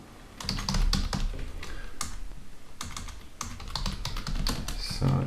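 Fingers type on a computer keyboard while HTML code is written, a fast, uneven run of close, crisp key clicks with brief pauses between bursts.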